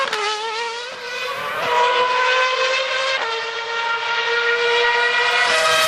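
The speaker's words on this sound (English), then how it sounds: "Young Kiwi Liam Lawson ripping up Mount Panorama in his Redbull RB7" A high-pitched Red Bull RB7 Formula One car engine screams steadily at close range at Mount Panorama, Bathurst, its harmonics shifting with quick gear changes and throttle lifts, loud and continuous with no talk.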